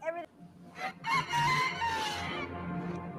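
A chicken dactyl creature from The Book of Boba Fett lets out clucking, crowing fowl-like squawks, rising into a drawn-out call, fairly faint and mixed with a soundtrack hum.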